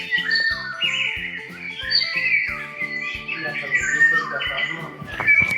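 Bright, repeated bird chirps and tweets close by, with speech-like voices mixed underneath.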